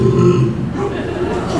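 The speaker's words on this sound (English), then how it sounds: "It was the biggest burp I have ever done" A long, loud burp rumbles low and throaty for nearly two seconds, heavy at first and then trailing off, delivered with a vocal, grunting quality during a middle school stage performance of Matilda.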